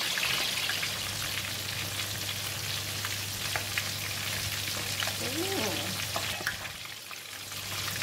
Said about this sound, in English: We'll fry the fish for 7 minutes on each side.